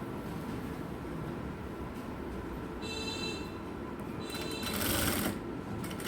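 Sewing machine stitching the folded neck edge of a blouse, a steady close motor hum with brief brighter whirring bursts toward the end, no talking.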